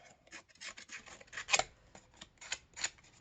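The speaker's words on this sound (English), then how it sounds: "You're almost like bending and scraping the paper." Scissors scrape and rasp across paper in quick, uneven strokes, close and fairly quiet, with a few sharper scratches standing out.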